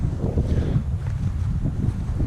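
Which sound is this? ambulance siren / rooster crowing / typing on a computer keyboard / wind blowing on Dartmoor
wind blowing on Dartmoor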